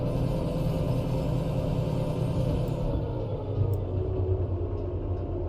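Train locomotive in the video game Derail Valley laboring up a long incline, a loud continuous low engine rumble that stays even and unbroken, with no voices.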